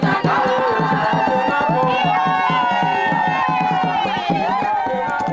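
A large crowd gathers at an outdoor ceremony in Zambia on a clear, dry-season day, a dense, continuous swell of many voices with tonal, song-like strands over a steady, rhythmic pulse, loud and close throughout.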